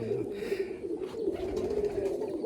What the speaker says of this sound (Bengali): তো ঘরে তো অনেকই পায়রা আছে